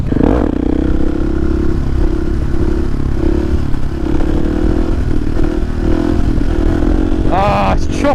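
Husqvarna 701 motorcycle engine droning loud and steady throughout while riding over choppy ground, with wind and clatter and a rising rev near the end.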